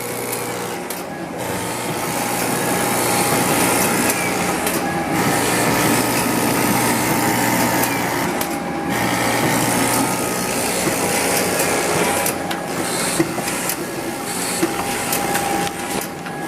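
A Duplo DC 645 slitter cutter creaser runs with a steady mechanical whir and rhythmic clatter of its feeder and cutting heads, loud and close, with a person talking over it.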